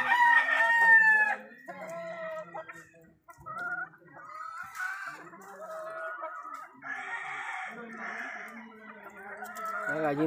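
A rooster crows loudly at the start, followed by steady clucking and squawks from nearby fighting-breed hens that continue to the end.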